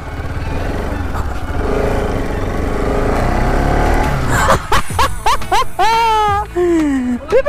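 A motorcycle engine runs with a steady, loud rumble and wind noise at the start of a road trip ride from Baksa to Haflong in Dima Hasao, then fades behind a person talking.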